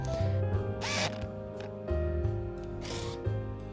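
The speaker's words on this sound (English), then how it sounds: "You point, focus, release the shutter button, and it goes back." A rangefinder camera's shutter being released and advanced, a few sharp mechanical clicks and whirring snaps spaced unevenly over a low steady hum, close and fairly loud.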